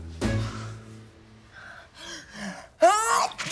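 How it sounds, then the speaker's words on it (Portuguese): One sharp sneeze bursts out near the start, followed by quieter breathy sounds and snorts, then a loud gasping vocal burst toward the end of the clip. "Bem que eu ouvi esse espirro mais cedo, foi você?"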